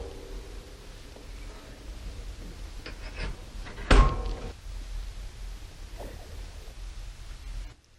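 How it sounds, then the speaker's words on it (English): A cast-iron wood stove loading door swung shut, a single sharp metallic clunk standing out mid-clip over a steady background hiss and faint handling noises. "Set the air control fully open and close the door."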